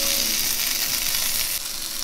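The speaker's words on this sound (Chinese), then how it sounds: "翻面再煎30秒" A teriyaki rice ball frying in a pan, a steady, close hiss of sizzling oil that holds for a couple of seconds with no voices.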